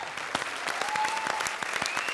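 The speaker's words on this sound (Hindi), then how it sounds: "भाई जोरदार तालियों से अरबाज भाई का स्वागत करें" Studio audience applause on a comedy show stage, a steady burst of many hands clapping at close range that fills the whole moment without talk.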